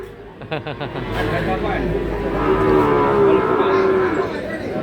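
A cow moos loudly and at length nearby at a cattle market in Tuban, a long drawn-out low call, while people chatter faintly in the background.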